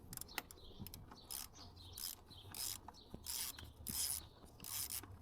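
A ratchet wrench loosens the oil drain plug on a 2017 Subaru Legacy, giving repeated bursts of close, rasping clicks in an irregular rhythm, with faint birdsong in the background.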